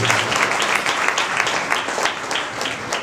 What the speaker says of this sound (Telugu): చప్పట్లు కొడదాం యేసయ్య కొరకు.